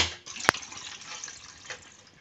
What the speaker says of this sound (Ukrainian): Вода починає прибувати. Іде накачка системи.